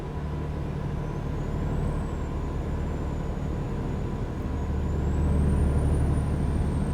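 A heavy truck slows on the highway in American Truck Simulator, with a steady low engine drone and brake hiss and a faint high tonal whine drifting above, loud and continuous.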